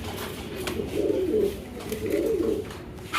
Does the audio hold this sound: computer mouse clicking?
no